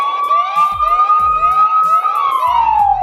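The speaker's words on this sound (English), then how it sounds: "So hey, there is a rudimentary alarm system." An Aqara door sensor alarm sounds a loud, close electronic siren: a sustained wailing tone that holds steady, then sweeps downward, with faint clicks and knocks beneath it.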